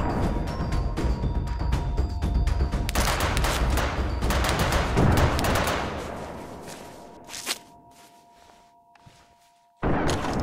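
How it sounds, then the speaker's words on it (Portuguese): Gunfire in the video game DayZ: a dense burst of rapid shots for several seconds, then a few scattered single reports fading out, with a sharp shot at the very end. "Olha o cara de barrete atirando"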